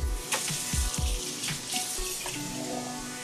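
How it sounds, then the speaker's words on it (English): Cold water poured into a mixing container while making slime, a steady splashing trickle with a few louder clunks and sloshes near the start, close by and alone with no talking. "And then you'll need to add a cup of cold water."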